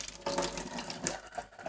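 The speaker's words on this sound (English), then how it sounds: "I'm going to rinse it through now." Running water rinses through a beer glass, a brief close splashing rush of tap flow with gurgling fluctuations, lasting under two seconds.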